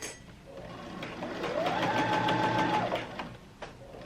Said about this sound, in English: you're just going to sew along the edge